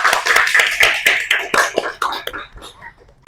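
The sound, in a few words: applause for the one-year anniversary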